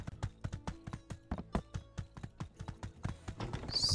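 Horse hooves from the game My Time at Sandrock clip-clop in a steady, even trot, roughly twenty crisp hits close by, with a rising hiss creeping in at the very end.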